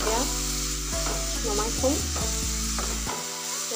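Boondi batter droplets fry in hot oil in a wok for laddu, giving a loud, continuous sizzle with steady bubbling and occasional stirring clinks, while a short bit of speech and machine hum sit underneath.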